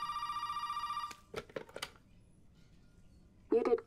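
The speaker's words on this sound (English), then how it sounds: "is that ringing in here?" A telephone in the Resident Evil 7 video game rings with a steady electronic tone for about a second, then stops. Faint knocks follow, and a voice begins near the end.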